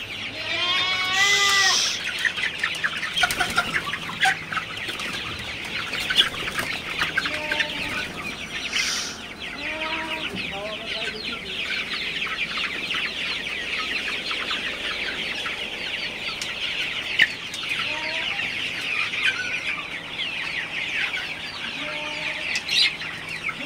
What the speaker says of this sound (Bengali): তো আমার সোনালি মুরগিগুলো মোটামুটি ভালো আছে